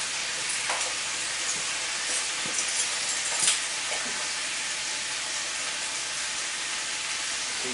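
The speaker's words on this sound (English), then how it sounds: "Stir it around." Shrimp, sausage and potato bake with black pepper sizzles and hisses steadily in a pan while being stirred, with a few soft scraping clicks from the utensil early on.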